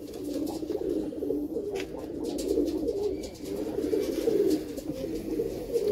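A flock of pigeons from a Punjabi racing loft coos continuously at close range, a dense, layered warbling with no talk over it.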